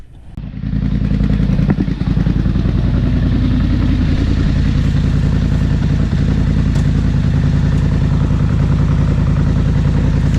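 A Polaris vehicle's engine starts and runs loud and steady at close range, with sharp clunks and clatter from the drivetrain near the start and faint ticks afterward.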